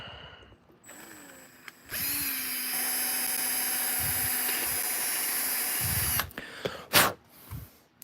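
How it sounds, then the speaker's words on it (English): A power drill bores a hole in a craft piece, a sustained high whine lasting about four seconds after a brief start, followed by a few handling knocks and clatters, close and with no voices. "And then I'm going to drill a hole for it."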